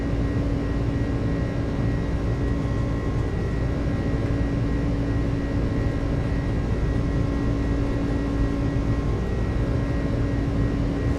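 Airliner jet engines at takeoff power in Microsoft Flight Simulator give a steady, loud, unbroken roar with a low rumble and a faint whine, holding constant for about eleven seconds with no voices.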